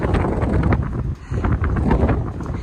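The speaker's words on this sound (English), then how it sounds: "The wind gusts get really high" Strong wind gusts buffet the microphone on an exposed Vermont mountain top along the Long Trail, a loud, rough roar that surges and briefly dips before rising again.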